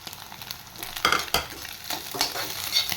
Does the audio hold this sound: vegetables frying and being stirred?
yes